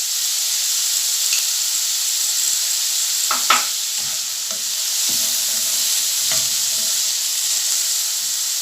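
Steady sizzling of an egg frying in a hot pan, a constant hiss with a few brief clinks and scrapes of a utensil.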